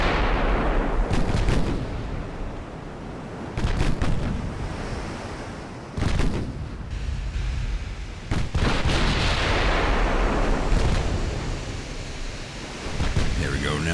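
Warships exchange naval gunfire at over-the-horizon range in the video game Ultimate Admiral: Dreadnoughts, in an 1890 Italian campaign at sea. Heavy booming salvos come several times over a constant rush of ocean and wind.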